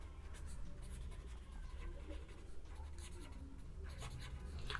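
Steady scratchy strokes of writing on a board during a biology lecture, continuous and fairly quiet over a constant background hiss.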